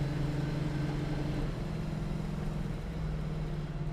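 A 1970 Plymouth Cuda 440 V8 runs with a steady, deep engine rumble that rises slightly in pitch as it pulls, heard from inside the car at a constant moderate level.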